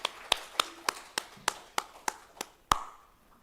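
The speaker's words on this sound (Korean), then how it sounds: "우리 격려의 박수 해드립니다" A church congregation claps in encouragement during a Sunday service, a series of about nine sharp, evenly spaced claps in a steady rhythm, fairly close and distinct over a quiet room.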